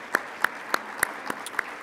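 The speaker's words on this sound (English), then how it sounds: "A round of applause for all of our partners and sponsors." A conference audience applauds partners and sponsors, heard as sparse, evenly spaced sharp claps at a steady rhythm, moderately near and fairly soft, not a full dense roar.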